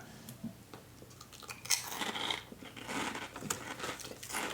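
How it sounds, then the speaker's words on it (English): Taco Bell cinnamon twists crunched up close, a string of crisp, crackly bites and crinkles with no talking. "Let's give them a test crunch, actually"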